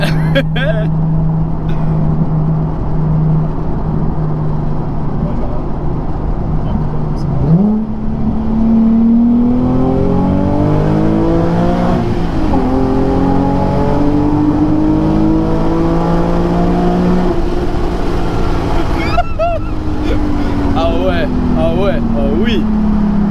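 A Nissan 370Z V6 revs hard while accelerating through a long tunnel, its rising engine note climbing steadily and ringing loud and close, with a voice talking over it.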